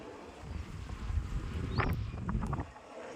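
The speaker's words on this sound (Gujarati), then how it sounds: "આ પવન ચક્કી છે એનો સતત અવાજ આવ્યા રાખે છે" A steady low whooshing rumble of a windmill-type wind turbine beside a farm in Galla village runs throughout, fairly faint, with a brief higher whine partway through.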